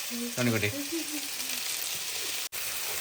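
Onions frying in a pan are stirred, giving a steady broadband sizzle throughout with a few brief utensil scrapes, while a voice speaks over the start.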